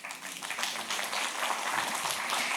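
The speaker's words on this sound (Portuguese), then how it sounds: "Uma salva de palmas a ele," Audience applause at a talk on purpose, a steady wash of clapping that stays loud and close for the whole moment with no voices over it.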